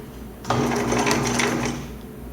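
A sewing machine runs a straight stitch while making a fabric laptop sleeve, starting abruptly and whirring in a rapid, close, even buzz for about two seconds before easing off.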